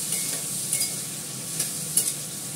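Potatoes with salt, turmeric and Kashmiri chili powder sautéing in a pan on an induction cooktop, a soft steady sizzle with a few sharp scrapes and clinks of a spatula stirring.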